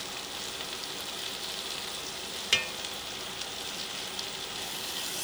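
Crushed garlic fries in a pan for potato and leek soup, a steady close sizzle with one sharp clack partway through and a few small ticks, no talking.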